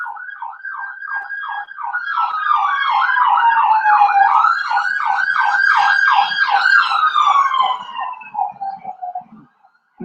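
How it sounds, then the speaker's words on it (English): A loud siren wails in rapid rising-and-falling cycles, then shifts to a slower sweep as it passes close by and fades at the end. "There is a siren coming by."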